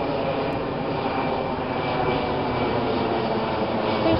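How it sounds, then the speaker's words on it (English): An airplane drones steadily overhead at a beach, a constant broad rumble that stays even and moderately loud throughout with no clear voices. "And there's a plane up there."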